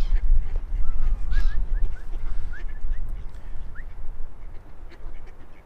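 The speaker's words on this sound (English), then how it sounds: "Now, as you can see, the birds absolutely love James" Ducks quack repeatedly close by in a loose, uneven series of short calls over low wind rumble outdoors in the Peak District, with no voices.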